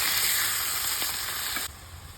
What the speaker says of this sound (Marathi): इथे बारीक चिरले टमाटर आणि परतून घ्यायचं।